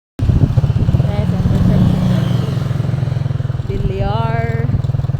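A motorcycle engine drones steadily and loud throughout, with a brief rising tonal whine near the end and people talking over the ride.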